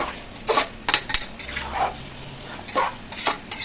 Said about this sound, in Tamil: இப்போ இதையும் எல்லாம் நம்ம மொத்தமாக கலக்கணும்.